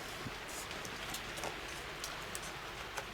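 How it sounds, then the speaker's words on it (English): Rain falling outside, a faint, steady hiss with scattered soft drop ticks, distant and continuous with no voices. "doesn't that rain sound lovely?"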